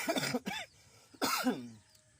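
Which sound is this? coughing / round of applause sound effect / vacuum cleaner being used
coughing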